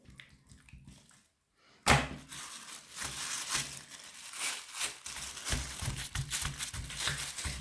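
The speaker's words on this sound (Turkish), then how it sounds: "Tekrar üzerine poşet kapıyorum." A plastic bag crinkles and rustles close by over dough resting in a tray, after a brief quiet pause, with soft handling thumps and crackles continuing steadily.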